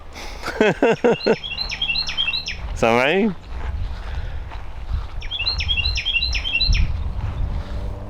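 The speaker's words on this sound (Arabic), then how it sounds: "شوف صوت العصفور" Small bird chirps repeat in quick high bursts against steady outdoor background noise, with a person briefly speaking in between.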